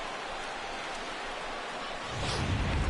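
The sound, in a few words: rain falling in a baseball video game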